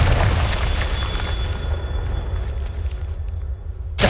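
Confringo blasting spell in Hogwarts Legacy: a loud, broad explosive roar that fills the opening seconds, then fades into a rumbling tail before a sharp final burst, with no speech.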